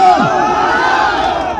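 Large crowd at a political rally gathered for an MLA candidate in Doda East, producing a loud, continuous wash of shouting voices that holds steady across the whole moment, with one raised cry near the start.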